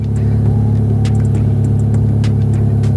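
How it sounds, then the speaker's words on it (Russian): A car engine warming up in a cold garage at minus 5 holds a steady, loud idle rumble, constant and even throughout, with faint clicks above it. "Я грею машину в холодном гараже, чтобы поехать забрать приз."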